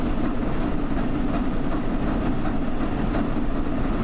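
Flying Scotsman steam locomotive in Train Sim World rolling steadily along flat track, a continuous dense rumble of running gear and rail noise with faint rhythmic beats, heard alone.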